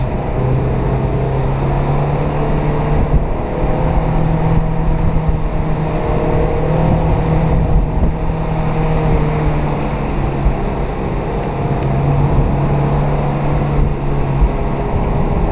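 A Mazda MX-5 NC sports car engine drones steadily and loudly throughout on a damp mountain road, with a constant low hum and road noise, no voices, as it drives on without pause.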